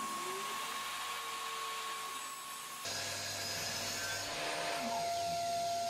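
A power saw cuts oak timber butted against a stop block during the build of a kitchen island, running as a continuous whining drone that shifts pitch midway and stays close and steady, with no talk.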